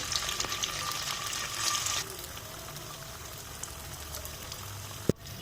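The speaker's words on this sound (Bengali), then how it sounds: "এখন আবার আমি আমাদেরগুলো এখন ভেজে নিব তেলের মধ্যে" Minced meat kebabs fry in hot oil with a soft, continuous bubbling sizzle, quiet and close, with a brief louder burst near the start and a sharp knock just before the end.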